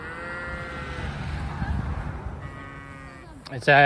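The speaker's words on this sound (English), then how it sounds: "Sheep feeding day." Sheep bleat in drawn-out calls over low rumbling background noise, ending with a louder, closer bleat.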